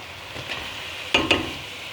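Onion, potato, carrot and parsley sauté in a pot as the base for a sheep's head soup: a soft, low sizzle broken by two quick scraping stirs near the end.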